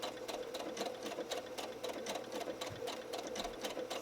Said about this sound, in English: now I'm done the blanket stitching on the ear